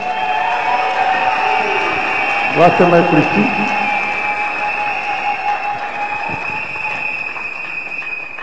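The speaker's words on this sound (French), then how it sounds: "Elle va s'avancer rapidement sous vos acclamations." Crowd at a church consecration ceremony cheers and applauds as a woman comes forward, a steady hall-wide swell under a voice speaking over a loudspeaker.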